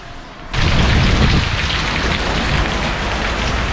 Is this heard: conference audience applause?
no